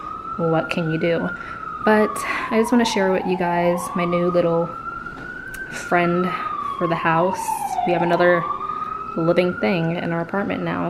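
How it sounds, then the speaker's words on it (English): Emergency vehicle sirens wail along a New York City street, rising and falling continuously throughout, loud and close, while someone talks over them indoors. "sorry about the sirens. I live in New York City."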